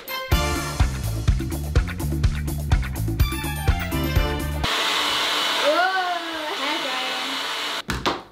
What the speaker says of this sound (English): to speed it up, you can use a hairdryer